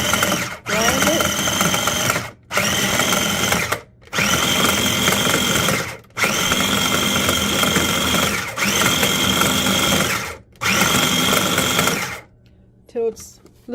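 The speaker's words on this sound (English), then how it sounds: "You put the provolone inside a food processor and" A food processor grinds provolone cheese in five loud, close bursts of whirring motor noise, each a couple of seconds long with short silent gaps between, followed by quiet rattling at the end.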